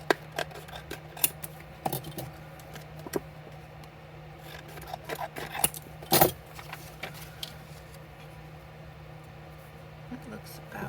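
Scissors snip through a scrap of paper for making little Christmas books, a few short crisp cuts scattered among rustling and handling noises, with someone talking at times.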